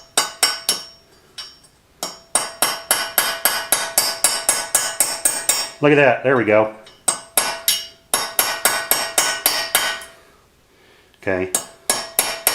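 A tinning hammer knocks stuck niobium drill bits out of a drill guide in rapid bursts of sharp metallic taps, with grinding scrapes and pauses between runs, close up. Someone speaks briefly.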